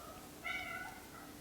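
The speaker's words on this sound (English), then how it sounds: "I don't know if you can hear him meow." A cat hiding under storage totes lets out a single faint, drawn-out meow midway through, set against a quiet indoor background hum.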